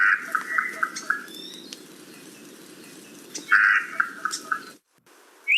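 A rare, endangered forest bird calls on the slopes of Haleakala on Maui, in two bursts of quick, repeated, croaky, frog-like notes, moderately close, with quiet natural background in between.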